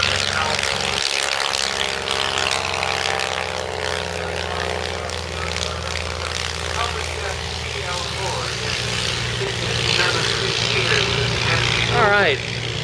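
A World War I Halberstadt plane powered by a Hall-Scott engine flies at an airshow, its propeller engine droning steadily and loudly overhead for over ten seconds, with people talking nearby.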